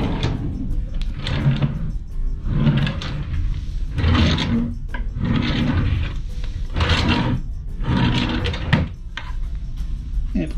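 A cruise ship cabin drawer slides open and shut again and again at close range, with wooden rumbling bursts coming about every second and a half.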